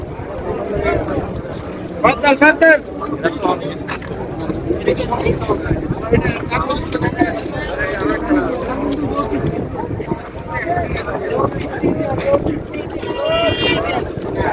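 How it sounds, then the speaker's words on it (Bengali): Wind buffets the microphone with a low rumble while someone talks and a crowd murmurs nearby, outside a mosque market in Riyadh, Saudi Arabia, at dawn prayer time. "একটু বাতাস আছে"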